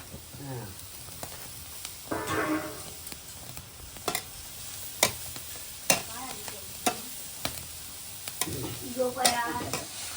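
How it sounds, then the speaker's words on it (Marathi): Steady sizzling of onions roasting in a hot kadhai, with repeated sharp stirring scrapes and a voice talking now and then. "आपण अगोदरच कढई ठेवलेली आणि मस्त आग पण मस्त झालेली आहे आणि आता कांदा भाजून घेऊया"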